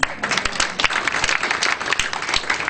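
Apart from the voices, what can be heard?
audience applause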